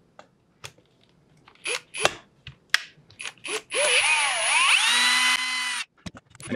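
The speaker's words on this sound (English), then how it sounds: "And a T27, I'm using a drill to remove them." Cordless drill with a T27 bit backing out cylinder head bolts on a Stihl FS80/FS85 string trimmer, a whirring burst of a couple of seconds with pitch sweeps, set among sharp clicks and small metal taps.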